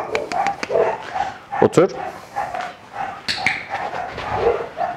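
A dog in training barks and whimpers in short yips and whines, close and mid-loud, while a trainer speaks commands over it.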